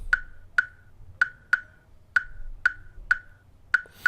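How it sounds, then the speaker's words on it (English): Sharp, dry rim shot drum samples click in a syncopated Afrobeat-style highlife pattern, about ten crisp hits with short ringing tails over a quiet background. "when I started out with the rim shots"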